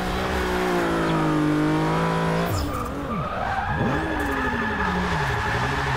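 A car drifting in Forza Motorsport 6 holds a high, steady engine whine, then breaks into a loud, wavering tyre skid as revs swoop up and down. Close and unbroken, with no talking.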